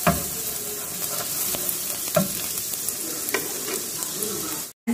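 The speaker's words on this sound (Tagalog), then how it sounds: "Habang pinapainit natin yung mantika, ilagay na natin yung bawang." Garlic frying in hot cooking oil in a pan: a steady, loud sizzle runs throughout with occasional stirring scrapes, then cuts off briefly at the very end.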